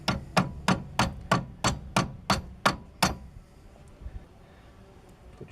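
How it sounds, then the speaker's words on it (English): A hammer taps a part back into place during Mazda 626 axle replacement work, nine sharp, evenly spaced metallic knocks at close range, followed by quiet. "take a hammer and tap it back on"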